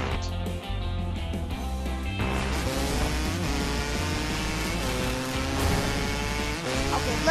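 A car drifts in a racing video game with a continuous engine roar and drawn-out squealing tires that rise and fall in pitch, loud and close over the game's backing sound.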